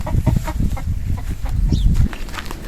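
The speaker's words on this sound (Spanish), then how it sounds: "Aquí tiene unas gallinas." Several chickens cluck nearby in Morocco, a busy run of low throaty clucks with a brief higher squawk, close and fairly loud.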